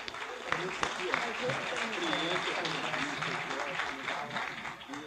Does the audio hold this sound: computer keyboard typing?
no